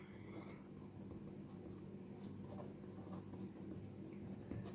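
Chalk or marker scratching out an equation on a board during a transistor circuit lecture, a steady run of short scraping strokes, faint and close, over low room hum.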